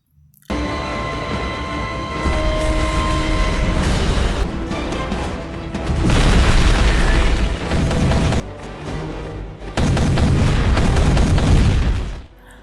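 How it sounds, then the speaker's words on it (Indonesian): Heavy booming blasts and a deep rumbling roar keep going in loud waves as General Garza's palace is blown up in an action movie scene, dense and continuous with short dips between surges. "Expendable pun mengambil kesempatan untuk meledakkan istana dari Jenderal Garza"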